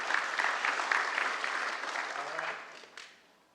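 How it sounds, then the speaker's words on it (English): Conference audience applause for a sponsor, a fairly close, dense clapping that holds steady and then thins out and fades, with a few last claps near the end. "So let's give a big round of applause for MoogSoft."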